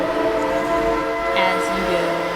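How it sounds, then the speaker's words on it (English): A steam locomotive whistle in the train game Rolling Line blows repeatedly in quick succession, loud and shrill with layered tones, over a low engine rumble. "I'll just spam the whistle"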